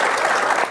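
Audience applause at an Indonesian comedy roast show, a loud dense burst of clapping from a studio crowd that thins slightly at the very end.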